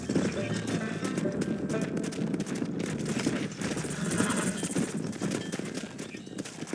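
Horse hooves clip-clopping at a steady pace in the video game Red Dead Redemption, a continuous rhythmic clatter under a busy wash of game ambience and occasional voices.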